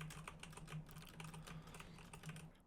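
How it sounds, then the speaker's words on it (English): Keys on a computer keyboard, WASD, spacebar and R as in video-game play, pressed in a steady stream of close, crisp clicks with occasional mouse clicks, picked up by an AKG P120 condenser microphone, with no talking. "I'm now pressing on the WASD key, the spacebar, the R key, and clicking that mouse every once in a while"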